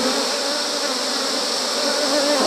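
A small bee swarm at a hive, buzzing as a dense continuous drone close up with no pauses, no voices.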